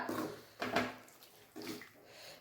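Water splashes and sizzles into a hot pan of Kerala prawn roast in three short, quiet bursts with gaps between.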